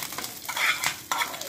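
Mustard seeds, fenugreek, cumin, dried red chilies and curry leaves crackle in hot oil as a tempering for Udupi sambar, a close, bright sizzle with sharp bursts and stirring.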